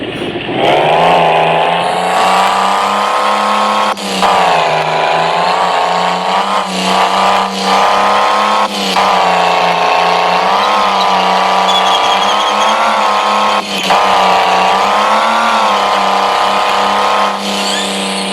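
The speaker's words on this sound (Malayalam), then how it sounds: "നമ്മൾ നേരെ വണ്ടിയിലേക്ക് കയറാം." Car engine in the Hunting Simulator video game, a loud, steady droning hum that rises and dips through several gear shifts with brief breaks, alone without any talk.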